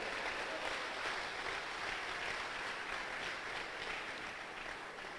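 Church congregation applauding the Lord during a sermon, a dense, steady wash of clapping that stays even and loud for the whole stretch with no voices standing out.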